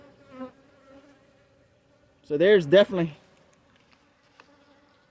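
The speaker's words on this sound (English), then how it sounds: "Some serious amount of bees right there." Honey bees buzz around an open hive during a January brood check, a dense droning hum, with someone speaking close over it.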